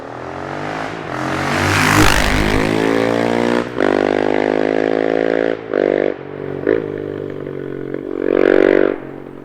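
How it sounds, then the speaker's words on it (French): A Husqvarna 701 Supermoto single-cylinder engine with a de-baffled exhaust revs loudly and close up, with several sharp throttle blips and bursts of rising, falling engine roar separated by brief dips. "On a également un pot Haro déchicané qui fait un son du diable."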